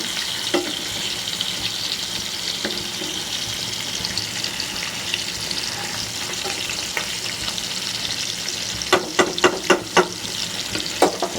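Hilsa fish frying in a pan, a loud continuous hissing sizzle held close throughout, with a burst of quick spatula scrapes and taps near the end and no talking.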